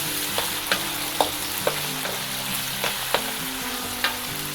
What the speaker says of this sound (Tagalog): chili garlic na 2 tablespoon. Yan. Hahaluin po natin.